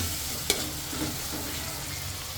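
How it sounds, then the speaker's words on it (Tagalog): Tomatoes sautéing and being mashed in a pan, a steady close sizzle with a stirring scrape and one sharp utensil clink near the start. "Ligisin natin ng konti ang kamatis para lumasa"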